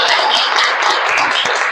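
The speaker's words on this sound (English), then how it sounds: "Can we have a huge round of applause for him?" Brief burst of audience clapping at a speech club meeting in Goa, a room full of hands applauding loudly and evenly with no voice over it.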